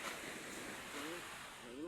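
Sea surf on a sandy beach rolls as a faint, steady wash with a little wind, and a low voice murmurs briefly near the end.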